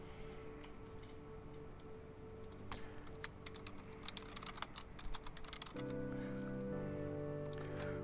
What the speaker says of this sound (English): We'll type in this text box real quick.